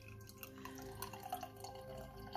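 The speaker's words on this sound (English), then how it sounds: "add the lukewarm water" Lukewarm water is poured into a glitter jar, a faint steady trickle and drip of liquid into a container, recorded quietly with no talk.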